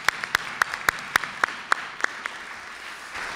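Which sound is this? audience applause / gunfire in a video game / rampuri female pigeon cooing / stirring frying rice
audience applause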